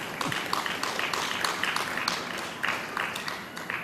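Audience applause at a spiritual gathering, a steady dense wash of many hands clapping with a few louder sharp claps, sustained at moderate level throughout.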